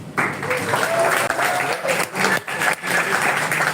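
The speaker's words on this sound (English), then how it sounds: "please give a warm round of applause for the lovely Usagi" A crowd applauds as Usagi, the opening act at a show in Japan, is welcomed to the stage. Clapping comes in uneven surges with brief dips, and voices and cheering are mixed through it.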